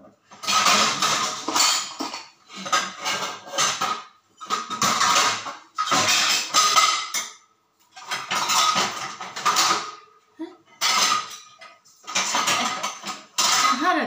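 Pots, pans and utensils clatter and scrape in a home kitchen during morning coffee preparation, bursts of close metallic clanking separated by short pauses, with no talk.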